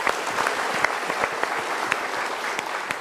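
Audience applause at an Indonesian talk show, a steady wash of many hands clapping, moderately loud, with no talk over it.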